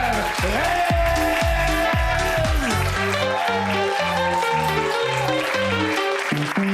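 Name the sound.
audience applause for comedian Amer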